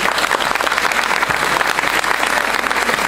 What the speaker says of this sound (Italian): Un applauso per Alfredo.